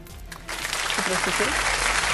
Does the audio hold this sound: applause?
yes